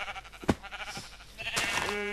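A sheep bleats sharply in a Minecraft-style game over a busy, steady backdrop of game sound, with a longer wavering bleat near the end.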